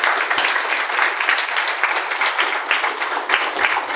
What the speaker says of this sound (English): A round of applause for these people.